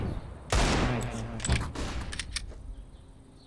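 Bursts of gunfire in Counter-Strike on the de_cache map: a loud close volley followed by several shorter shots and rattling rounds, fading into quieter clicks.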